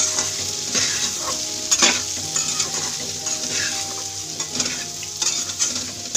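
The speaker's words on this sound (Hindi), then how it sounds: "अब इसे अच्छे से मिक्स कर लें।" A spoon stirs turmeric, coriander powder and salt into a soya chunk mixture in a hot pan, giving a steady sizzle with repeated scraping strokes close up, with no voices.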